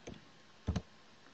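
A few soft, close keyboard clicks: one light tap, a pause, then a quick pair of keystrokes in an otherwise quiet room.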